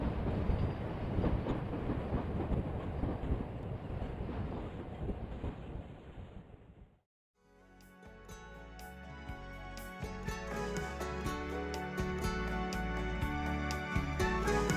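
A California Zephyr passenger train with caboose number 427, built in 1955, at the rear rolls past. A broad rumble and wind roar fades to near silence, then rhythmic rail clatter and rattling cars follow.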